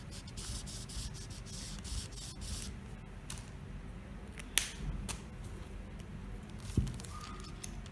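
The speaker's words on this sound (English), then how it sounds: "I'll rule it and cut it out for the back yoke." Scissors cut through shirt fabric for the back yoke of a four-year-old's shirt, a quiet, close rustling and rubbing of cloth with a couple of small sharp snips and no talking.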